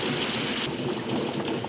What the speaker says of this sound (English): We can't go much further in this rain